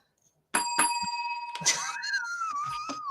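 A small bell is struck in quick rings, a couple of bright clear strikes followed by a longer ringing tone that wavers and decays, with a few soft knocks between; no speech.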